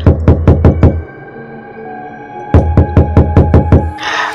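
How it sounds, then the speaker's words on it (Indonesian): Knocking on a front door late at night, two bursts of about five sharp, evenly spaced raps each separated by a pause, loud and close with no voices. "Tiba-tiba terdengar ketukan di pintu depan."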